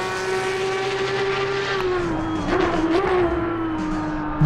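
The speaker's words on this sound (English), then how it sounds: "Car sounds great." A Porsche 992 Cup race car engine drones steadily at high revs in Assetto Corsa Competizione on the Nordschleife, a sustained tonal whine with a slight pitch dip and rise midway, heard alone without talk.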